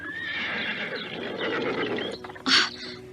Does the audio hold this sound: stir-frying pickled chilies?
no